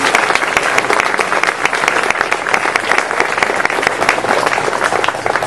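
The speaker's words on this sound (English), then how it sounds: "Let's give them a round of applause." Steady, loud applause from an audience at a fraternity charter house dedication, dense continuous clapping without a break.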